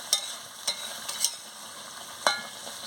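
Chicken and purple yam are sautéed with spices in a pan. Four sharp metallic scrapes of a spatula ring out at uneven intervals over a faint, quiet sizzle, with no voices.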